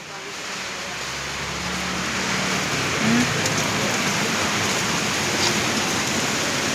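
Heavy typhoon rain pouring down steadily, a dense, constant hiss of water on surfaces that swells slightly after the first moments and stays loud and unbroken throughout.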